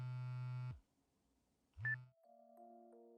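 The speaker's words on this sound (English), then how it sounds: "The cell phone in Shigure's hand stopped ringing." Cell phone ringtone in the Nekopara Vol 1 visual novel: a loud, sustained electronic tone, then a gap and a short rising blip, followed by quieter steady melodic tones, no voices.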